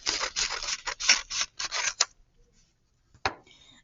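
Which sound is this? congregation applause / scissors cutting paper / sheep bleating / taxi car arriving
scissors cutting paper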